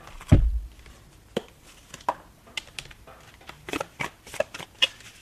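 Tarot cards being shuffled by hand, a sharp riffle thump at the start followed by scattered soft slaps and flicks of the cards, close and alone.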